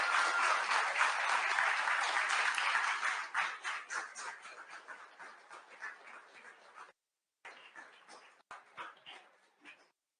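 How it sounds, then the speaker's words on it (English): Audience applause for a lecturer after a talk on mycorrhiza, steady and fairly loud at first, then thinning into scattered claps with brief gaps before fading out. "maybe we have a big applause for our lecturer"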